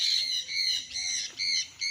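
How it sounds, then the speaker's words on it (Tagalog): Birds on a farm in Liliw, Laguna squawk loudly in a steady run of harsh, close calls, with no talking. "Dinig nyo po ang huni ng mga ibon."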